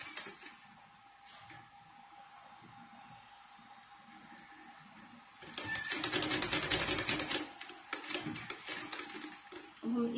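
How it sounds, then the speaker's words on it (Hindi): Sewing machine running a straight seam on fabric while an old lehenga is turned into a new designer saree, a rapid mechanical stitching rattle that starts partway through after a quiet stretch, close and fairly loud. "यहाँ से हम इसे सीधी सिलाई करेंगे।"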